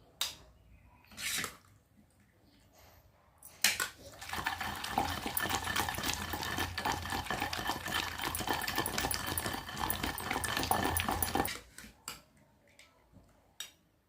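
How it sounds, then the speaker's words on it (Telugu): Tomato chutney with garlic, cumin and salt is ground by hand on a traditional grinding stone, a loud, steady rough scraping and rolling grind lasting about eight seconds between a few brief knocks, with no talk. "బాగా నరిగిద్ది ఇది వేసి నూరేద్దాం"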